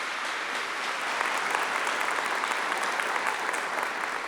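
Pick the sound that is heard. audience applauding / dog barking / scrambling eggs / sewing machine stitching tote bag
audience applauding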